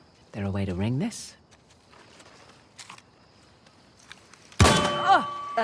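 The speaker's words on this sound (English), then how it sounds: "Ringing the bell removed one of the bars." A bell rings once in the video game Uncharted: The Lost Legacy, a loud metallic clang with a ringing tail near the end, following a voice and quiet game ambience.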